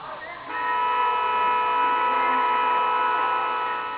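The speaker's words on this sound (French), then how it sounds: "Une halte de 10 minutes a suffi pour provoquer concert de klaxons et bouchons." Car horns blare in a traffic jam caused by a street protest against a stadium project in Décines, a sustained loud honk holding steady after a brief start, with traffic noise underneath.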